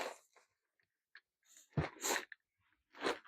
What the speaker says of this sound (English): Whoop, sneeze.